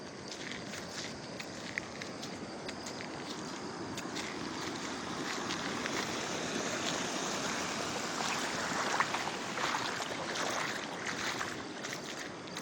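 Overflowing floodwater in a village during torrential rain roars in a continuous wash of rushing noise, fairly close and steady, with a few faint knocks and splashes scattered through it.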